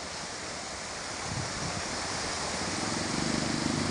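Strong flash-flood water in Gondang, Bojonegoro rushes in a steady, loud broadband roar that swells slightly toward the end, with no voices over it.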